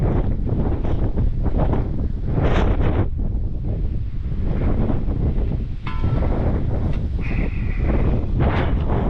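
Strong wind blowing outdoors, loud buffeting gusts roaring against the microphone almost continuously, with a faint higher tone breaking through briefly near the end.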